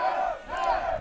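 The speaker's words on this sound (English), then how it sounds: "But the crowd is here, and right now we hear the Germans" German fans in the crowd at a European roundnet championship final chant and cheer together, a sustained, voiced group shout rising and falling in two swells over about a second.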